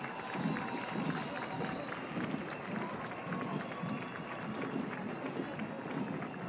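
A crowd applauds at a September 15 Independence Day parade as a nursing school marches past, steady dense clapping mixed with distant crowd noise and rhythmic footfalls continuing throughout.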